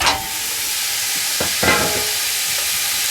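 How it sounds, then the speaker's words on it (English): Bacon dropped into a large skillet preheated over medium-high heat, giving a loud, steady hiss of sizzling fat, close up, with a couple of short stirring scrapes partway through. "With the pan heated up, we're going to add in the bacon"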